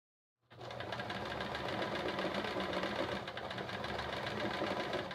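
A sewing machine doing free motion quilting starts after a short silence and runs at a steady, fast, even stitching rattle close by, with no talking.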